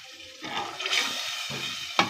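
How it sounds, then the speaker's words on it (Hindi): A glass of water is poured into masala frying in a pan, a near, gushing splash and hiss that rises suddenly and sizzles on steadily, with a sharper splash near the end. "अब इसमें क्या करेंगे, हम तकरीबन 1 गिलास पानी ऐड कर देंगे"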